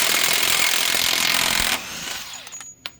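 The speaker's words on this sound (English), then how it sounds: "Get your impact, put it on the high setting." Impact wrench on its high setting removing an axle nut on a Honda Civic Si, a loud rattling hammer burst lasting under two seconds, then cutting off to a few faint clicks and clinks.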